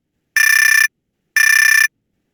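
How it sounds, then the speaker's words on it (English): Two identical short electronic bell tones from a Zoom meeting timer, each lasting about half a second with a brief pause between them, clear and close with nothing else heard. "a bell will ring, which will sound like this"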